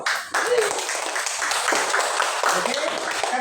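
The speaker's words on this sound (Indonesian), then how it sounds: "Tepuk tangan dulu." Students in a classroom applauding together, a short burst of quick clapping close by with voices and chatter mixed in throughout.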